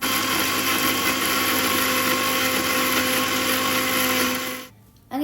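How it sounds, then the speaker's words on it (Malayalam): A blender running at high speed on paneer and garlic for eggless, oil-free mayonnaise, giving a loud, steady, close whine that cuts off abruptly near the end. "ഹൈ സ്പീഡിൽ ഇട്ടിട്ട് തന്നെ നല്ലപോലെ ഏകദേശം ഒരു മിനിറ്റ് നേരം തന്നെ നന്നായിട്ടൊന്ന് അടിച്ചെടുക്കുക"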